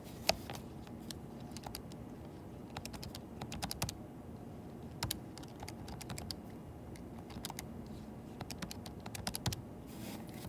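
Fingers tap number keys on a calculator in a quiet room, a run of light, crisp clicks that come in short irregular bursts over a low background hum.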